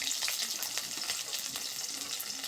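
Oil hot in a pan with a bay leaf, chopped garlic and chopped onion frying, a dense continuous crackling sizzle, close and steady throughout with no voice over it.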